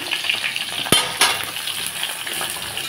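Taro and taro stalks frying in a pan with oil and potatoes, a steady close sizzle broken by a couple of sharp clinks of a utensil against the pan.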